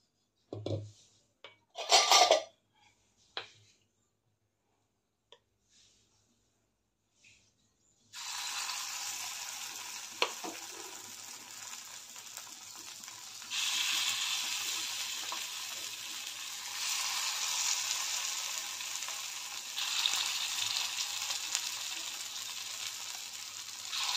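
Appe batter poured into a hot appe pan, with a few close clinks and knocks, then a steady, loud sizzle that swells in waves and keeps going as the batter cooks.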